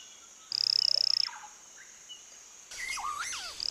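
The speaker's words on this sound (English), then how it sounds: "This is a South American red-eyed tree frog" South American red-eyed tree frog calling up close, a sharp rapid clicking trill followed after a pause by a burst of chirpy, warbling calls in quiet surroundings.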